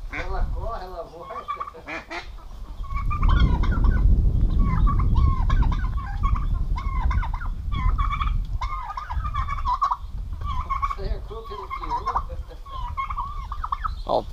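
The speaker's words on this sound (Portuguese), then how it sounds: "Uma discussãozinha aqui da roça, ó. A galinha de Angola e o galo." On a rural farm, a guinea fowl and a rooster quarrel amid loud, repeated rattling cackles and calls, with gobble-like bursts and a scuffling low rumble, while someone talks over the commotion.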